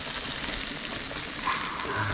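Tarpon fish fry in a pan, a steady close hiss and crackle of sizzling oil throughout with no pauses.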